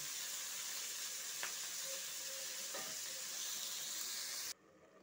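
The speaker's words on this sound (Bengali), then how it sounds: "চিংড়ি মাছটায় আমি লবণ হলুদ দিয়ে প্রথমে ভেজে নিচ্ছি" Shrimp seasoned with salt and turmeric fry in hot oil, giving a close, steady sizzle with faint stirring that cuts off abruptly near the end.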